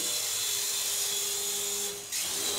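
Toy 2-channel infrared RC helicopter flying, a steady high-pitched motor and rotor whine that holds constant close by, dipping briefly near the end before resuming.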